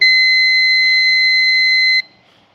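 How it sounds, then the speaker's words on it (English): A piece of gym equipment gives a single steady, loud, high-pitched electronic alarm tone that holds for about two seconds and then cuts off sharply, leaving near silence. "That's the sound of the piece of gym equipment here."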